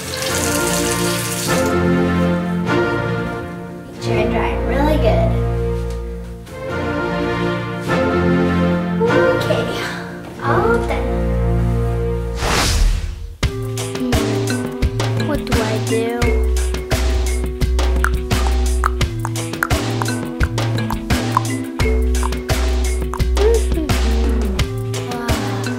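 Water from a household tap running steadily into a sink as hands are rinsed, a loud close gush that continues after a short pause while background music plays.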